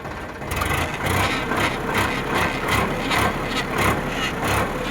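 A Sonalika RX 42 DI diesel tractor engine idles close by, its steady, evenly spaced chugging pulses repeating without pause and with no talking over it.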